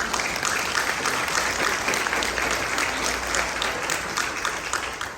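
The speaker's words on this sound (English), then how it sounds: "give our panelists a round of applause" A conference audience claps for a panel of speakers, loud sustained applause filling the room from start to finish with no talk over it, tapering slightly at the very end.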